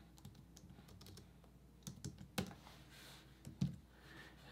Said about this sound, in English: I'm gonna type in another text